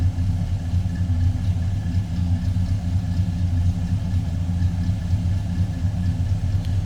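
A 1965 Chevrolet Chevelle Malibu SS with a small-block V8 and a mild cam idles steadily, a deep, even rumble with a slight lope, close and continuous with no talking.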